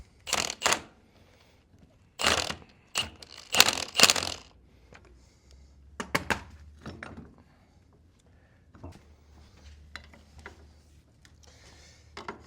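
Bolts are tightened on the steering gear of a Farmall Cub tractor, heard as several sharp metallic clicks and ratcheting bursts with quiet pauses between them, close by.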